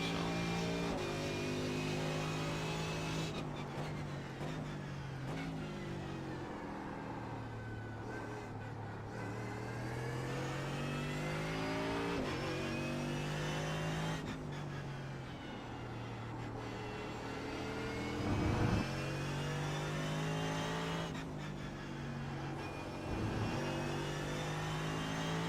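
A race car engine on a road course, driven by a dirt racer, holds a loud continuous drone that rises and falls in pitch as it accelerates through gears and lifts off for braking into corners.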